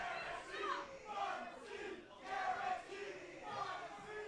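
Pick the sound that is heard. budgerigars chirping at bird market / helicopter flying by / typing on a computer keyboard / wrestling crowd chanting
wrestling crowd chanting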